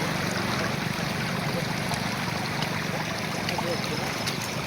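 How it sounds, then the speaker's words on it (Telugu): Rain-swollen stream water rushing steadily past a village fishing spot with a bamboo fish trap, a broad continuous wash of flowing water that stays loud and even throughout. "పారుతా వచ్చేస్తున్నాయి నీళ్ళు కూడా"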